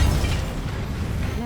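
A fiery explosion spell in the Hogwarts Legacy video game, heard as a loud, dense, rumbling blast of noise that fills the whole moment with no break.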